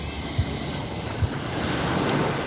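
Steady rushing water roars continuously, with wind buffeting the microphone and a few low thumps.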